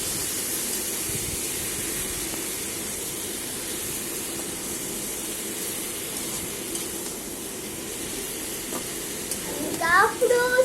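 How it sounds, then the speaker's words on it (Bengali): Chicken meat being sautéed in a pan for a spicy red curry, a continuous steady sizzle with brief louder scraping stirs near the end; a voice talks faintly underneath. "যে মাংস ঢেলে দিলাম এবার খুব সুন্দরভাবে কষায় নেব"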